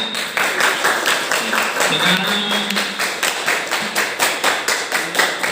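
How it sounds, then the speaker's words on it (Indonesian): A school seminar audience claps in a rhythmic, patterned burst for an alumna speaker at a junior and senior high orientation, with a voice talking over the clapping. "Tepuk tangan untuk beliau."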